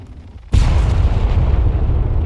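A mortar round explodes in a combat video game, one sudden loud blast followed by a rumbling, crackling decay that stays heavy and close for the rest of the moment, with no talking.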